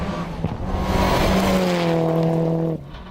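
A Mitsubishi Evo 10 rally car powers along a gravel stage at Rally Whangarei, its engine note holding steady and loud, then cutting off sharply near the end.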